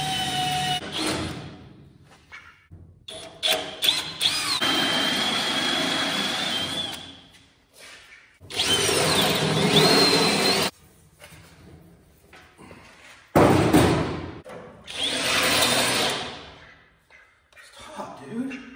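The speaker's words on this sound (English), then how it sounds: "So I'm gonna go ahead and drill some holes and bolt her down." Power drill boring holes to mount a tongue box onto a new Harbor Freight Haul Master trailer, heard in several loud bursts of a few seconds each separated by pauses, with occasional talk in between.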